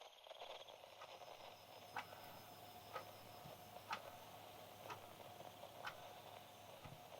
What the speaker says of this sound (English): It was the only thing making noise, its hands ticking faintly.